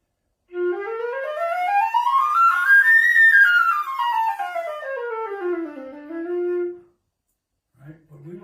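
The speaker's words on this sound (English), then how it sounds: "If I didn't change my embouchure to accommodate the notes or the octave, it would sound something like this" A flute plays a smooth scale rising over two octaves and falling back, without embouchure changes for the octave, giving a thin, breathy tone; loud, close and solo, ending on a held low note before a brief voice.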